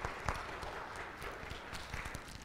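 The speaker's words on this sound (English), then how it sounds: "give David a round of applause" Scattered applause from a church congregation during a sermon, a brief ripple of separate hand claps, fairly quiet and distant.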